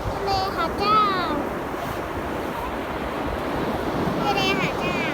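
Steady roar of ocean surf at Hat Chao Samran beach, Thailand, with wind buffeting the microphone, while a child and an adult talk briefly over it.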